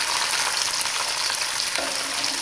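Onions hit hot ghee and fry with a loud, continuous hiss and crackle that stays steady throughout, close up and with no voices.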